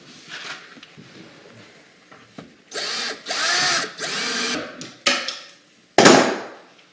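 A cordless power drill drives pocket hole screws into a wooden face frame for a window seat cabinet, several loud close whirring bursts of varying length separated by short pauses, ending with a sharp high-pitched burst.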